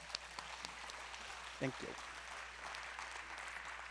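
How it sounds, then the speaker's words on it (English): Applause rises from an audience at a debate event, a soft steady patter of many hands, fairly distant and faint, with a voice briefly speaking over it. "let's receive her with a big applause."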